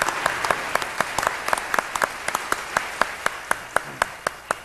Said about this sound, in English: let's have a round of applause for all of these authors